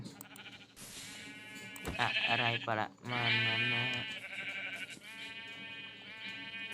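Blocky Minecraft sheep bleat loudly several times in quick succession amid game sounds, while a person talks briefly over them.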